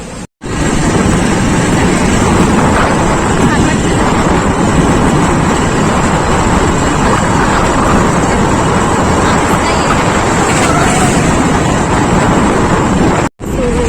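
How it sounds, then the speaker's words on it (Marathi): Loud, steady wind buffeting the microphone for the whole stretch, a dense roar with a faint busy outdoor background beneath it. "बघा मंडळी, खूप वारा सुटलाय"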